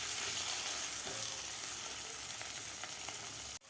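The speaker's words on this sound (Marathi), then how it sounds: "टोमॅटोसुद्धा आपल्याला व्यवस्थित परतून घ्यायचं आहे" Tomatoes sautéing in a kadhai for egg biryani, a constant close sizzle with faint stirring touches, no voices.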